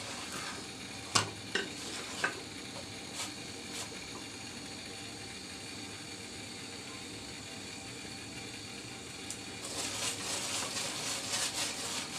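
Quiet frying in a pan with just a drop or two of oil, a few sharp utensil taps early on, then a faint sizzle that swells near the end; no talking.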